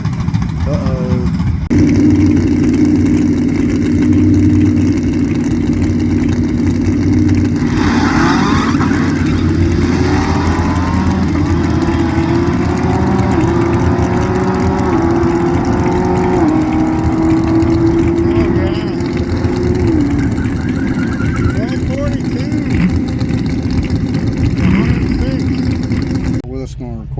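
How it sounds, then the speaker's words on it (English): Loud drag strip run with a Turbo Gen 3 5.3 engine car racing a parachute-equipped Mustang in the eighth mile, a steady roaring engine drone holding for the whole stretch with rising and falling whine and a voice talking over it. "Let's go and race this Mustang with a parachute on it."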